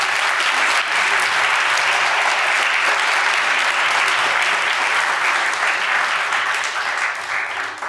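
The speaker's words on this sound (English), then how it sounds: "let's give a round of applause for Jake for joining us" An audience at a book talk gives sustained, dense applause, steady and loud for most of the stretch before tapering slightly at the end.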